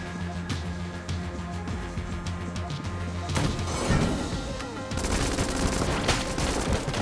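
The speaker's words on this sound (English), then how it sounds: "they shoot a lot of bullets" Enemy gunfire in the twin-stick game Enter the Gungeon, rapid dense volleys of bullet shots and impacts over game music, growing louder and busier toward the end.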